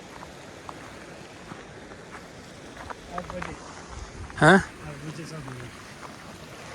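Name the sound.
rushing river water near Thajiwas glacier, Sonamarg, Kashmir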